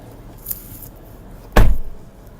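A single solid thump of a car door closing on a 2014 Jeep Grand Cherokee Summit, preceded by a faint click and rustle, fairly close and alone.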